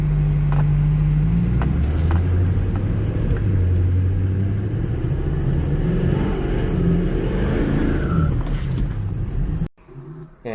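An LML Duramax diesel swapped into a Camaro running: a loud, close, steady rumbling idle with rising and falling engine tones that cuts off abruptly near the end.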